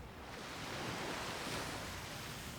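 Sea waves wash steadily at a harbour as a soft, continuous distant surf with a faint breezy hiss and no talk.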